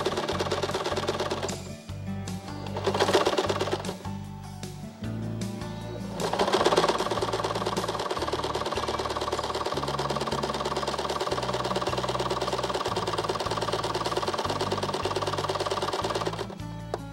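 A sewing machine runs a straight seam along a pencil-marked line, its fast steady stitching loud and continuous with a couple of brief pauses and speed changes.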